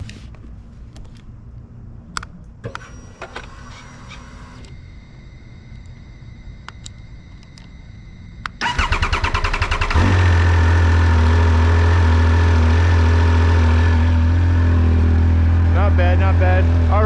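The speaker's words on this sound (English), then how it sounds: "First time starting up the bike." A motorcycle cranks and fires on its first-ever start, catching after a quiet stretch of faint background noise, then settling into a loud, steady idle close by.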